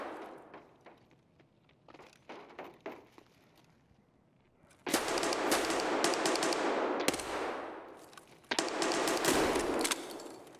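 Gunfire in the video game Escape from Tarkov: scattered shots and short bursts, then long, loud sustained automatic fire with brief pauses, close and harsh.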